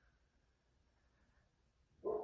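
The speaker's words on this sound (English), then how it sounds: "Why is my dog barking now?" A dog gives one sudden, fairly loud bark at the very end, breaking an otherwise quiet indoor stretch.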